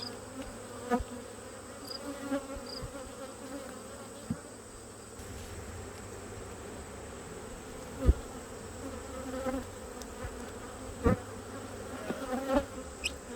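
Steady, dense buzzing of many honeybees close by at an open hive with emerging brood, with a few louder bees passing near and occasional small knocks.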